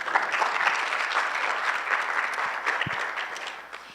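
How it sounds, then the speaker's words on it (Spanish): An audience at an academic humanities panel session applauds for a teacher, a steady dense round of clapping from many hands, fairly close and filling the whole stretch before tapering slightly at the end. "la maestra Gabriela Castañeda, para quien también pido un fuerte aplauso"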